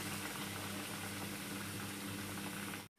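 Battered boiled-egg bhaji frying in hot oil, giving a dense, even sizzle that runs close and steady for a few seconds before cutting off abruptly.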